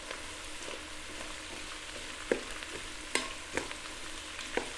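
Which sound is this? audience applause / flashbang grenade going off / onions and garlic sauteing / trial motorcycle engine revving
onions and garlic sauteing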